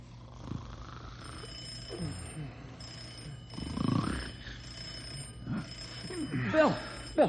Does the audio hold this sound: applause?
no